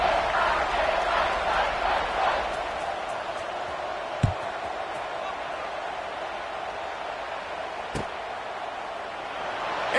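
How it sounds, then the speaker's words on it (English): Stadium crowd in the NCAA 26 college football video game before a kickoff, a steady dense roar of many voices filling the whole stretch, with two brief thumps and commentary talk over it. "this crowd now ready to get behind them"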